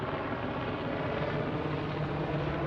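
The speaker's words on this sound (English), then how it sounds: "Got a helicopters keep circling overhead here" Helicopters circling overhead make a steady, continuous low rotor drone that stays level throughout, with no voices over it.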